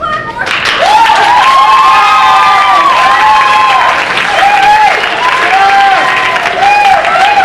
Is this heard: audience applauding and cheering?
yes